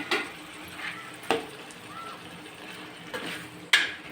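Tomatoes dropped into hot oil in a pan for a country chicken curry give a low, steady sizzle with a few sharp clatters and stirring scrapes spaced through it.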